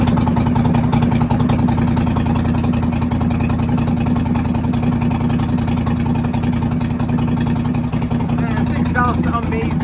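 An engine fitted with an aftermarket carburetor runs steadily after a cold start, a loud continuous low drone throughout with no pauses, in an engine build that uses inexpensive head gaskets.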